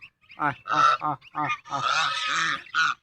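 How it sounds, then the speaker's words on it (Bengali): A brood of four duck ducklings calls in a run of loud, close, nasal honking cries, several short bursts followed by one longer drawn-out call. "এই দেখেন আমার হাঁসের বাচ্চা, দেখেন গাইস কত সুন্দর বাচ্চা"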